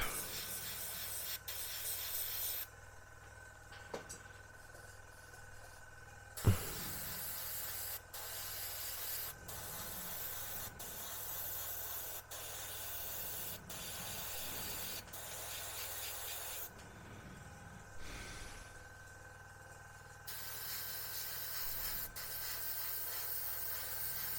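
A Mobius premium 0.3 airbrush sprays paint onto a 1/32 Revell He111 model plane in short bursts of soft airy hiss, separated by quiet pauses, with a single sharp knock partway through.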